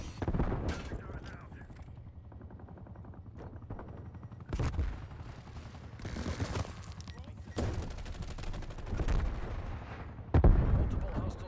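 Sustained bursts of automatic gunfire from hostile sentry turrets in Call of Duty Black Ops Cold War zombies mode, with heavier booms near the end, under radio-style voice chatter.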